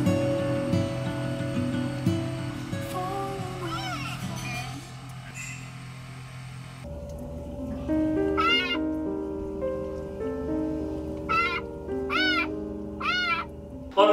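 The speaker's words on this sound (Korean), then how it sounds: "엄마랑 치즈 새끼 고양이 비교적 양호합니다" High, thin meows ring out in short repeated bursts under a humming background, with a voice speaking in the first half.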